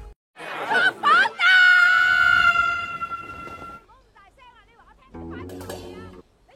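A woman lets out a loud, ear-splitting scream, long, piercing and held, after a few shorter shrill cries, followed by quieter voices and a brief tonal sound.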